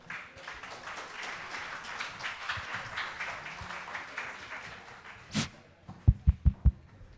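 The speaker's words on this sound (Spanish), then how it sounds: "Fuertes aplausos, por favor." Applause from an audience at an evening event, a steady crowd patter that fades out, then a few loud isolated claps close by.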